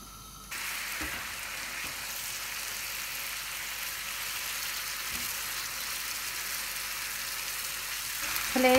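Marinated chicken frying in a pan over a medium flame, a steady broadband sizzle that starts abruptly as the pieces go in and holds evenly throughout, with a few faint clinks and no talking.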